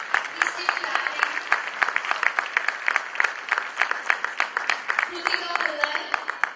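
Crowd clapping for a dance award recipient at a talent honors ceremony, continuous lively applause with a voice talking over it in places.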